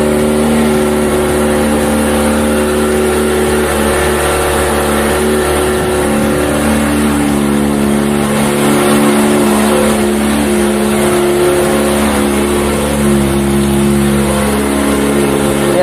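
A Kawasaki ZX25R with a ProSpeed Viper exhaust runs at a high cold-start idle, a loud, steady buzzing drone held close for the whole stretch.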